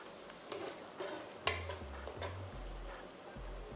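A spoon stirs efo riro, a Nigerian vegetable stew, in a pan, making soft scraping and a few sharp clinks against the metal, with low thuds and a faint sizzle, close and fairly quiet.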